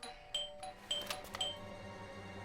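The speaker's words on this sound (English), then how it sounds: "I thought I should use the doorbell so I wouldn't startle you." A doorbell ringing in the video game Blues and Bullets, a few faint, short chime strikes in quick succession over a quiet background.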